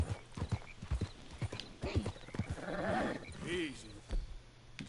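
Horse hooves clip-clop at a steady walking rhythm in Red Dead Redemption 2, close and fairly loud, with a brief whinny-like call and snorts mixed in and a voice speaking over parts of it.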